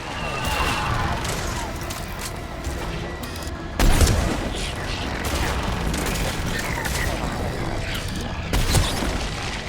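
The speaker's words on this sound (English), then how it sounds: "Firing another salvo." A gunship fires a missile salvo in the video game Mass Effect 3 during a battle on Thessia. Dense booming and crackling explosions roll on continuously, with heavier blasts near four and nine seconds, and voices are partly audible beneath.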